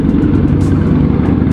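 Honda Shadow motorcycle engine idling close by while being parked, a loud, even, throbbing rumble with some light clatter, no voices.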